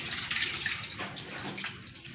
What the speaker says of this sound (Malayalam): കുറച്ചും കൂടി വെള്ളം ഒഴിച്ചു അല്ലേ